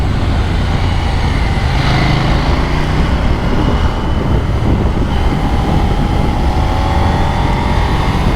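KTM Duke 890 twin-cylinder motorcycle being ridden, a steady loud broadband engine and wind roar throughout with a rising engine tone near the end, no talking.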